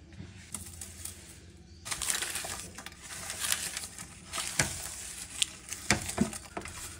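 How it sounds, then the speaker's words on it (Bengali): Onion and dried chili are mashed and rubbed with salt by hand for a potato bharta, giving intermittent close crunching and squishing sounds in irregular bursts over a quiet background. "এখানে দিয়ে দিয়েছি হচ্ছে পেঁয়াজ আর হচ্ছে শুকনো মরিচ, এগুলো লবণ দিয়ে কষলিয়ে নিব।"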